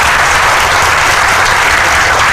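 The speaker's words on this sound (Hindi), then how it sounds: "आप भी एक बार जोर से ताली बजा के" A large audience at a Hindi-language event with civil-service exam toppers bursts into loud, dense applause that runs steadily through the whole stretch without pause.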